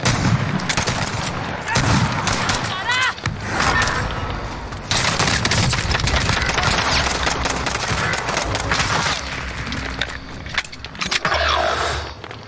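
Dense, nearly continuous gunfire fills a Call of Duty Warzone Rebirth Trios match on Alcatraz, with rapid overlapping bursts and shots that stay loud throughout.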